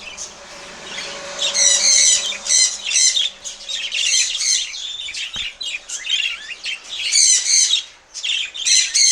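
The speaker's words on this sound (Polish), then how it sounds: "No teraz to będzie ćwierk na podwórku." A flock of budgerigars kept for breeding in a yard, chirping and squawking in dense, overlapping bursts with brief pauses, close and lively, with no voices.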